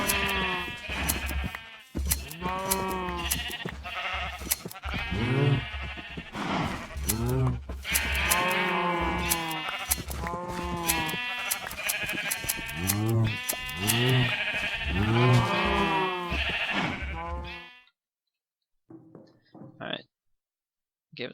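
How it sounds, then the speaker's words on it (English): Repeated sheep bleats from Minecraft in the Sky Factory modpack, a run of wavering, harmonic cries over roughly the first seventeen seconds, loud and close, followed by near silence with a few faint clicks. "Go and shear some sheep"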